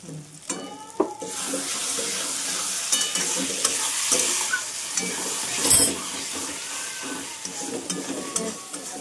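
Masala with a pinch of sugar being stir-fried in a pan for a meat dish, a steady close sizzle broken by repeated scraping and stirring strokes, with no talking.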